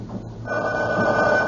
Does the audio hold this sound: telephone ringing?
yes